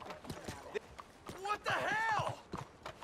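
Horse hooves clip-clopping in a video game, a quick run of hoofbeats mixed with game sounds while someone talks over them.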